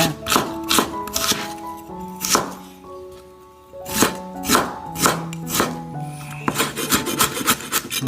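A knife chops and slices on a wooden cutting board in a home kitchen during prep of a Burmese tiger-prawn oil-fried dish, with garlic or onion nearby. The cuts come as sharp repeated thuds and rasps in uneven bursts, close and fairly loud, with no talk.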